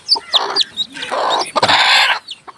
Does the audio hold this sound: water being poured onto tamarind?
no